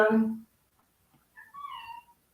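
A pet cat meows once, close and fairly loud, followed by a few fainter, higher vocal sounds that could be further meows or a person reacting.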